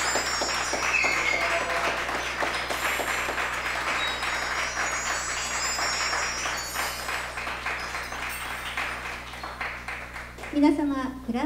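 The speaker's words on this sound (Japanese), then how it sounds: "お二人の未来に承認の拍手をお願いいたします" Guests at a mock wedding ceremony in the Nagoya Garden Palace applaud to approve the marriage, steady clapping that fades over several seconds before a voice speaks at the end.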